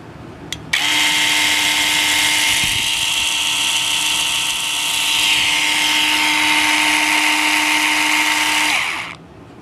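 Dremel PC-10 Versa cleaning tool spinning a bottle brush: a sharp click, then a steady high motor whine with a slightly wavering pitch for about nine seconds before it cuts off.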